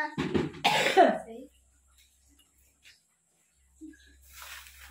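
A couple of harsh coughs close to the mic at the start, then quiet with faint rustling and a soft breathy noise near the end.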